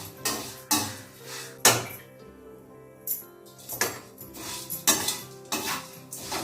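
Poha flakes are roasted in ghee in a pan, a spoon scraping and clinking against the metal in irregular strokes, close and distinct, with quiet gaps between stirs.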